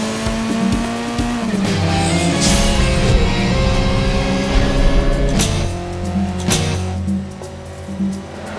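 Animated race cars roar together at full throttle, engines droning loudly and continuously with tire squeals and skids cutting in as they battle for position.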